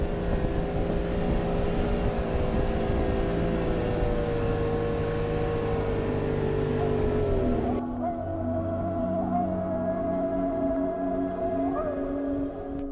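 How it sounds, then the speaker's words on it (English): Vehicles grinding through deep snow drifts on the mountain road to Big Almaty Lake in Kazakhstan, a steady loud engine drone with a pitch shift midway as the load changes, continuous throughout with no talk. "puts our vehicles to the real-life test of streamrolling through the drifts"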